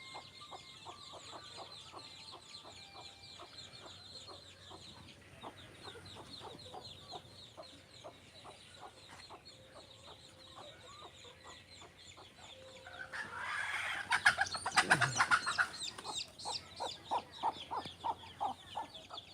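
Desi native chickens on a farm cluck in repeated short calls, moderately close, with a louder flurry of squawking and flapping toward the end.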